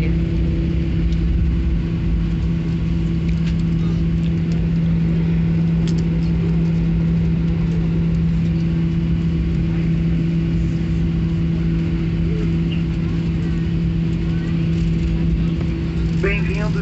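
An airplane's jet engine rumbles while landing at Brasília International Airport, a steady low hum and drone heard from inside the cabin, with people talking faintly over it.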